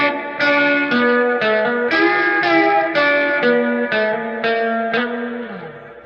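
Clean-channel electric guitar with Fender single-coil pickups through a Seymour Duncan convertible amp, a run of bright, twangy picked notes and chords, each attack distinct, ringing with light reverb and fading at the end, no voices.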